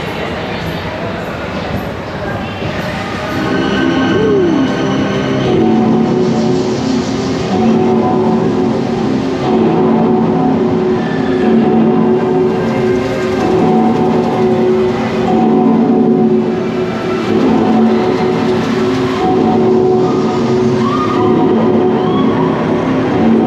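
A Vekoma indoor roller coaster, Révolution at Bobbejaanland in Belgium, roars along its track in a loud, continuous rumble heard from onboard. Riders' voices come through over the noise.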